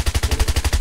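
Rapid bursts from an M4-style rifle in the Knives Out video game, about ten sharp, loud shots in an even, quick rhythm with no pauses.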